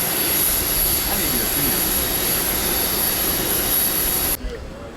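Loud, steady roar of a private jet's engines fills the cabin almost continuously, with muffled voices talking underneath, before the noise cuts off abruptly near the end.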